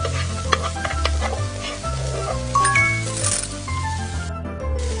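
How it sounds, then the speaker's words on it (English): Onions and garlic stir-fry in a frying pan in a cartoon cooking game, with a continuous sizzle under stirring scrapes and light clinks, while bright game music with a bouncy melody and bass line plays throughout. "Put onions and garlic into the frying pan. Stir and fry it."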